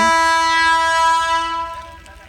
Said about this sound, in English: So once you want to reach to CRC, you have to pass this train track.